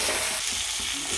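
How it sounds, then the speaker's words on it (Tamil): Vegetables including green plantain sautéing in a clay pot for dried-fish curry, a steady close sizzle and fry with faint stirring and no talk. "காயெல்லாம் சேர்த்து நல்லா வதக்கி விட்டாச்சு."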